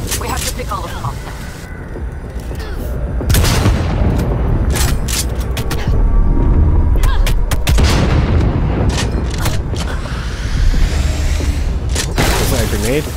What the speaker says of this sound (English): Was that a grenade?